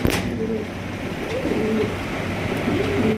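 A large blue Lahori pigeon coos in a steady series of low, throaty rolling calls, close and fairly loud, with no talking.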